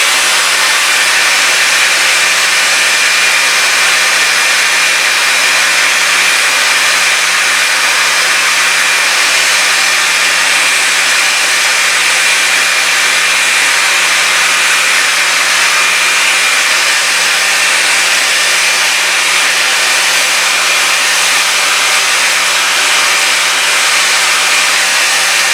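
An Arbortech ball gouge power carving tool grinds into wood with a steady, loud, continuous whir that holds without pause throughout, no voices.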